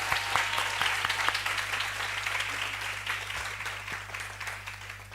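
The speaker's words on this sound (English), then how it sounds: "Are we gonna clap again?" Audience applause at an occupational therapy research day, a dense, steady wash of many hands clapping that holds for several seconds and slowly eases, with a low hum underneath.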